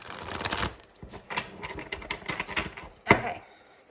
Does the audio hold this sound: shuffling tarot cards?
yes